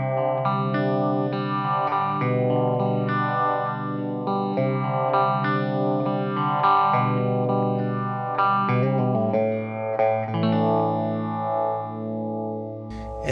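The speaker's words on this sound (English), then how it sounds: "all the way over to the left, we're going to have a sound that's a bit more chorusy" Electric guitar through a Hardwire TR-7 chorus pedal with the modify knob turned fully left, giving a shimmering, swirling chorus on sustained chords and picked notes, played alone and up close.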